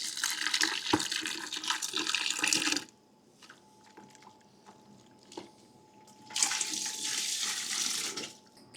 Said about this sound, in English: all I do is just top that up full of water